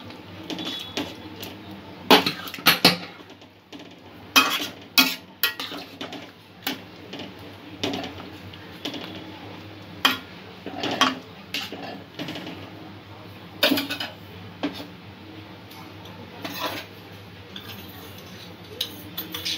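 A spoon repeatedly clinks and scrapes against a pot while ground coriander and cumin are mixed in, a sparse run of sharp close taps over quiet background.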